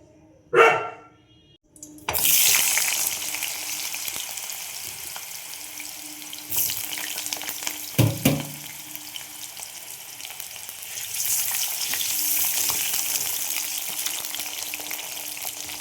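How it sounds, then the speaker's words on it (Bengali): Potatoes frying in oil in a wok: a quiet start and a brief loud burst, then a steady close sizzle from about two seconds on, with a thud near the eight-second mark and no talking. "আলুগুলো আমি ভেজে নেব।"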